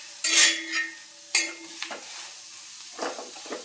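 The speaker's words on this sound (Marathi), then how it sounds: "हे बघा कांदा तापत लावला आपण, तवा तापला आहे आपला आता छान." Small crushed onions hit a hot tava with sharp bursts of sizzling, three separate spurts with stirring scrapes between and quieter hissing in the gaps.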